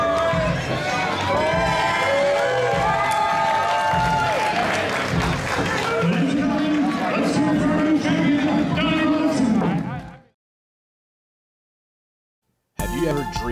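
A wrestling crowd at a CCW independent pro wrestling show cheers loudly and steadily as a new Alternative Champion is crowned, dense roaring and clapping for about ten seconds, then a sudden cut to silence before the noise returns.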